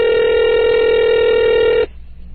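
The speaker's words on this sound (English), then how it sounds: "called Al Pacino at his house and had him on the air" A steady telephone dial tone hums loudly and evenly for about two seconds and then cuts off abruptly, leaving faint background hiss, as a call is placed on a radio show.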